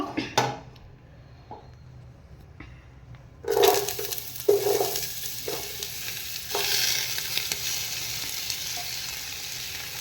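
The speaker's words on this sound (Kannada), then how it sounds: "ಆನಿಯನ್ ಹಾಕಿ ಸ್ವಲ್ಪ ಇದನ್ನು ರೋಸ್ಟ್ ಮಾಡಬೇಕು." After a quiet opening with a few light knocks, chopped onions hit hot oil in a cookware pot for mutton biryani, and a loud sizzle bursts up and continues with stirring noises.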